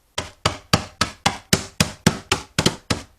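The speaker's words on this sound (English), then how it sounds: "we're going to whack evenly on our granola until it's as small a chunks as we want" A rolling pin whacks granola sealed in a plastic bag, giving eleven hard, evenly spaced thuds in quick succession, each with a crinkly rattle, loud and close with no talking.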